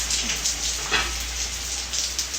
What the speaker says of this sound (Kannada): ಮಳೆ ಸ್ಟಾರ್ಟ್ ಆಯಿತು ಗೈಸ್, ಮತ್ತೆ ಕಾಣಿಸ್ತಿದ್ದ ಮಳೆ ಬರ್ತೈತೆ